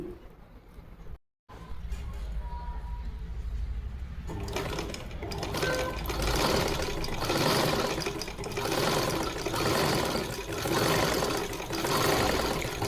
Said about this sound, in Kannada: ನೋಡಿ ಯಾವ ರೀತಿಯಾಗಿ ನಾನು ಹೊಲಿಗೆ ಹಾಕ್ತಾಯಿದ್ದೀನಿ ಅಂತ